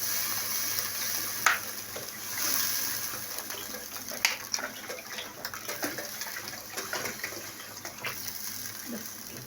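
Water is poured into a cooking pot for a fish and rice meal at home, a continuous splashing gush with clinks and knocks of the pot and spoon scattered through, fairly close.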